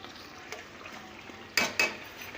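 Keema is stirred and fried in a pan, heard as a quiet, low background with a soft knock early on. Two sharp, close utensil clanks against the pan follow in quick succession near the end.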